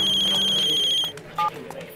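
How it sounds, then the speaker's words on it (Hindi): A phone ringtone rings loudly with a steady repeating electronic tone for about a second, then stops and a short beep follows amid low background noise. "some crazy girl is calling me again again"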